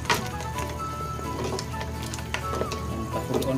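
Beef bone broth bubbling at a boil in a pot for nilagang buto-buto, a steady close simmering hiss with scattered pops and crackles and no talk.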